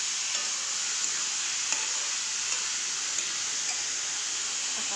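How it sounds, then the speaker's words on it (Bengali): Bottle gourd frying in a pan, a steady bright sizzle with faint scraping ticks as it is stirred, continuous and close without any talking. "এখন রান্না বান্না করছি, লাউ ভাজা"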